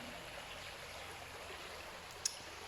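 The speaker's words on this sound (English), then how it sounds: "Right now I'm sitting in the canal by the river." Water flows steadily in a canal beside a river, a soft continuous outdoor rush and trickle with a brief faint click near the end.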